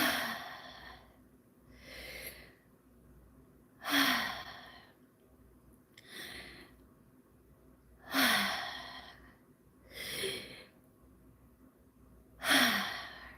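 Slow, deep breaths taken during a guided acupressure session for anxiety, several long inhales and exhales at a steady pace, close and clearly audible, with no talking over them.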